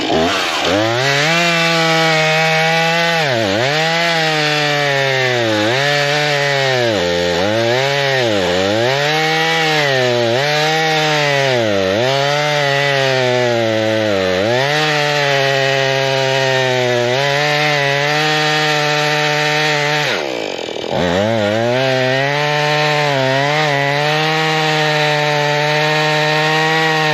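A chainsaw cuts through a dry fallen tree, loud and close, its engine rising and falling steadily as the chain bites, with one brief dip in power late on.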